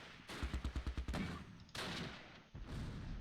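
Rapid bursts of gunfire and machine-gun fire in the WWII strategy game Close Combat Last Stand Arnhem at the Arnhem rail bridge, a quick string of sharp shots followed by heavier sustained firing and a second loud volley.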